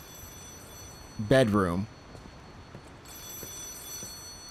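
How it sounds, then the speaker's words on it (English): A telephone bell rings once in the video game Lies of P, a short bright ring over quiet background, followed by faint ambience. "Let's answer this phone."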